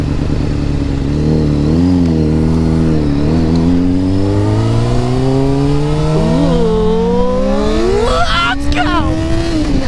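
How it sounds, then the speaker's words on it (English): A Honda CBR motorcycle revs and accelerates hard through several rising gears, its engine pitch climbing repeatedly and loudly up close, while a rider whoops and speaks briefly over it. "That's the power of a CBR, baby."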